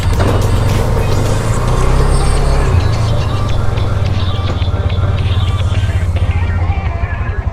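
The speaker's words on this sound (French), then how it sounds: "Tu vois là Julie, je vais passer en 4 roues motrices parce qu'on va passer dans une zone un petit peu compliquée." Polaris Sportsman 570 Touring two-seat ATV engine, a steady loud low drone that holds throughout while driving off, with no one talking over it.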